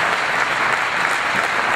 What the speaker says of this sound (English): How about a round of applause for Mr. Jack Willman?